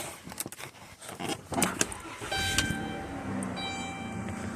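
A 2015 Chrysler Town and Country with a 3.6 engine is started at the push of a button, and faint clicks lead into an electric whir and then a steady, quiet idle.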